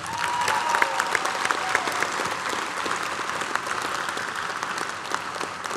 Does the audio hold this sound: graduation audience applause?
yes